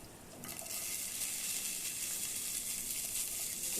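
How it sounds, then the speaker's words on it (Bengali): Soybean oil heating in a frying pan gives off a soft, steady sizzle that starts faint and builds to a constant hiss. "আমি আরেকটা প্যানে তেল দিয়েছি, সয়াবিন তেল।"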